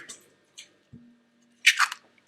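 Egg cracked into cookie batter for air-fryer chocolate cookies, a few soft taps followed by a wet, squishy crunch and drip, close and quiet with no talking.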